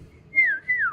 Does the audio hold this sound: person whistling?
yes